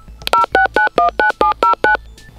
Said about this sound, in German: kann gespeicherte oder eingegebene Ziffern als Wahltöne ausgeben